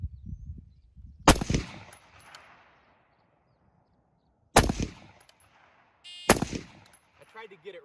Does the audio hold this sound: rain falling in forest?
no